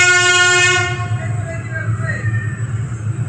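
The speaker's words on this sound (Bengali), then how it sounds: "এখন আমাদের ট্রেন ছেড়ে দিল, তো আমরা আবার জার্নি স্টার্ট করলাম" A train pulling away, heard from inside the carriage on a journey from Khagraghat to Katwa: a loud, steady horn sounds for about a second, then a low rumbling run of wheels and motion continues without talk.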